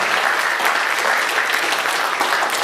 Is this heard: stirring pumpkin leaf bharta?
no